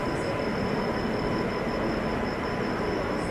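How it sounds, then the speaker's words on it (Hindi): The New Delhi–Prayagraj Express pulls into platform 6 at Kanpur Central in the morning, a steady, dense rumble of wheels and carriages with a faint high whine running through it and no talking. "सामने प्रयागराज एक्सप्रेस अराइव करती हुई"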